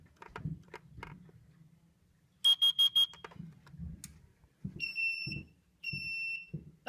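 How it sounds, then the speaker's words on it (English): Carbon monoxide detector on a fire alarm system during a zone test, four quick shrill beeps followed by two longer high tones, with faint footsteps and handling noise around them. "this is just a CO2 detector, carbon monoxide"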